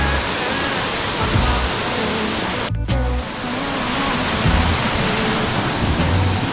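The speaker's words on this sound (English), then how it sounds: "Pretty cool little waterfall there." Small waterfall at Kinaugan Falls in Bohol, a steady loud rush of falling water filling the scene from start to finish, with a brief dip near the middle and no voices.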